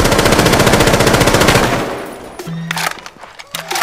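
Rapid automatic gunfire from Rainbow Six Siege, a loud sustained burst for nearly two seconds that cuts off into quieter game sounds with a few short tones and clicks.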